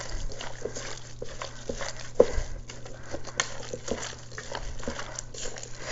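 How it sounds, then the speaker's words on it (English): A gloved hand squishing and kneading a mixture of ground pork, crushed pork rinds and zucchini for keto meatballs, soft wet squelching and patting that continues irregularly and close by. "put a glove on and go on in and bind this and mix this"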